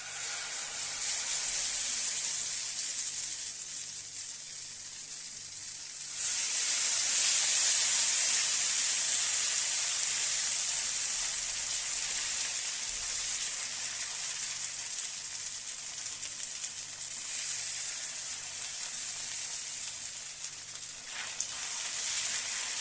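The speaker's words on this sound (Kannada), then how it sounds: "ಈಗ ಕಾವಲಿ ಬಿಸಿ ಆಗ್ಲಿಕ್ಕೆ ಇಟ್ಟಿದ್ದೆ ಅದಕ್ಕೆ ಎಣ್ಣೆ ಹೆಚ್ಚಿಟ್ಟಿದ್ದೇನೆ ಬಾಳೆ ಹೂವಿನ ದೋಸೆ ದೋಸೆ ಹಿಟ್ಟನ್ನು ಹಾಕುವ" Banana blossom dosa batter sizzling in plenty of oil on a hot griddle, a steady loud hiss that swells sharply partway through and holds, with no talking.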